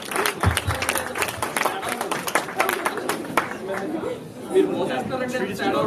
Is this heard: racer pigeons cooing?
no